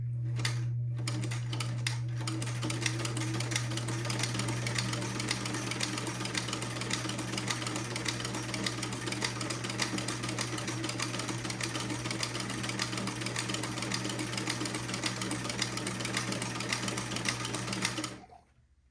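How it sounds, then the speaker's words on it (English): A sewing machine stitches a buttonhole on a twins' daygown, running loud and close in a fast, continuous mechanical rattle for about eighteen seconds before stopping abruptly. "And then I'm going to proceed to sew one buttonhole at a time."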